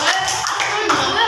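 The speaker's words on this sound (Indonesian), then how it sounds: "tepuk tangan buat Rasya" A brief burst of group clapping in an elementary school classroom, quick and uneven, with voices murmuring underneath.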